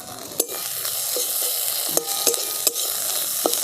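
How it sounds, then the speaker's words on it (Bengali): A utensil stirs cheese through a tomato-sauce mixture in a pan, with a steady low sizzle underneath and a few sharp scraping clicks against the pan, close by and without talk. "দেখুন চিজটা দিয়েও আমি এটাকে সঙ্গে ভালো করে মিশিয়ে নিচ্ছি"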